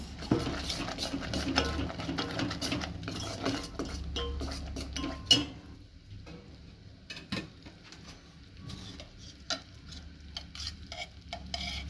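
A spoon stirs and scrapes through a ragi laddu mixture with added coconut powder in a bowl, giving steady, close clinks and scrapes that run continuously with a few sharper knocks and no talking.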